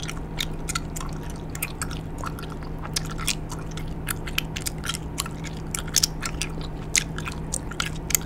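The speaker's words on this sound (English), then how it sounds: "I did not expect the gum to be in strips" Close, wet chewing of strips of bubble gum, with rapid smacking and sticky clicks repeating steadily over a low background hum and no talking.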